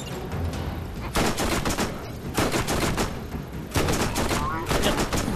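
Gunfire aimed at zombies in Borderlands: rapid automatic bursts come in several loud clusters separated by short lulls, dense and close, with no one talking.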